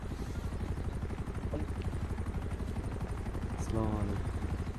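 A helicopter in GTA V keeps up a constant rhythmic rotor chop at close range, with a brief burst of other game noise near the end.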